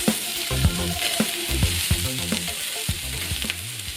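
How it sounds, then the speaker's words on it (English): Peppers and onions fry in butter on a griddle, a steady close sizzle with repeated scraping and turning sounds from a utensil throughout. "add more butter to the griddle and put the peppers and onions on and just keep those going for 3 or 4 minutes"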